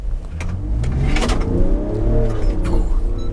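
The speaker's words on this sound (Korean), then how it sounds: "가속 성능을 한번 좀 볼까? 순간 가속" A Land Rover Defender 90 accelerates hard from a standstill, its engine note climbing steadily over about three seconds, close and loud inside the cabin, with some wind and road rumble and brief clicks mixed in.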